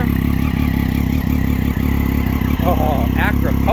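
A 2009 Triumph Daytona 675 fitted with an Akrapovich exhaust runs steadily and loudly close by, a constant engine drone throughout with a voice speaking over it near the end.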